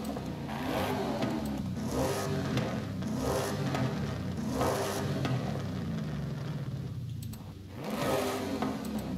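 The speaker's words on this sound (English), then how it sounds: "I think the original exhaust sounds the best." A Ford Mustang Cobra in Forza Horizon 5 revs hard through its engine and exhaust, the pitch climbing and dropping in repeated surges with a brief dip near the end, loud and continuous.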